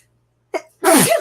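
A single loud, close sneeze bursts out after a short breathy intake, standing alone against near silence.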